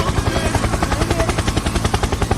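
Loud, rapid rhythmic thumping of helicopter rotor blades in the Roblox game Prison Escape, steady and continuous with a mechanical whine.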